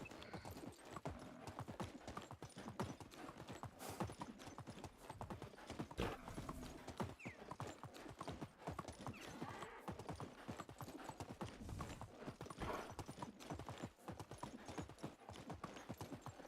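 Horse hooves clip-clop at a steady trot in the video game Medieval Dynasty as a rider travels along. The rapid, even rhythm continues throughout, fairly faint and close.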